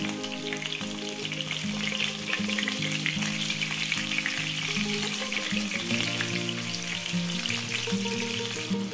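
Meatballs sizzling and frying in heated olive oil in a pan over below-medium heat, a steady, dense crackle that stays loud and even throughout with no talking.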